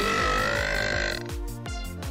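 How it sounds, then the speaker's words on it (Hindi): A long, loud, close burp with a rough, pulsing texture lasting around two seconds, heard alone without talk. "फिर मेरा पेट भर गया और अब मैं डकार मारूंगा"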